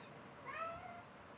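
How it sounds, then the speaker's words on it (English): A pet cat gives a single short meow nearby, fairly faint against a quiet room. "That was our cat."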